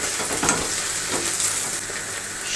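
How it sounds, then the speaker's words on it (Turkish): Onions sautéing in a pan with a spoonful of pepper paste: a continuous, dense close-up sizzle with soft stirring scrapes, steady throughout without any talk. "Soğanların rengi değişene kadar kavuracağım."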